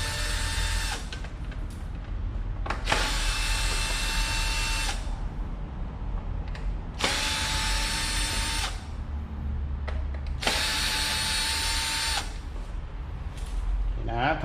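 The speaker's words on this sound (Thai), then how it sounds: "หันสกูออกทั้งห้าตัวนะครับ" Power screwdriver backing screws out of a Mono Cool unit: three separate bursts of steady high whirring, each a couple of seconds long, with quieter gaps and handling noise between them.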